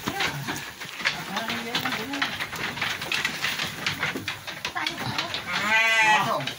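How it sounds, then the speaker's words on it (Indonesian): In a Dorper breeding pen near Soreang, Bandung, a sheep gives one clear bleat near the end over steady farm noise and talk. "Tuh, ini domba yang sudah ada."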